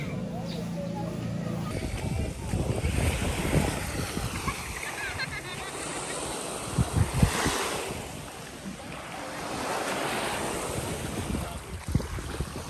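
Ocean waves in Cebu wash and surge in rolling swells, with wind buffeting the microphone and voices talking over the water at times.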